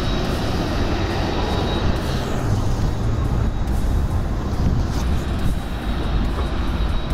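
A DJI Mavic Mini quadcopter drone flies with its remote-controlled return function switched off, giving a loud, steady whirring roar with rushing wind-like noise that holds constant throughout.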